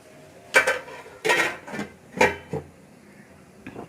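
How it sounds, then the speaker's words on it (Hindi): Covering a pot of brinjal and arbi curry on the stove, with a few sharp metallic clanks and rattles of the lid against the pot in quick bursts, close up, then a faint final tap. "इसे हम अब कवर कर देंगे और दम पे लगा देंगे।"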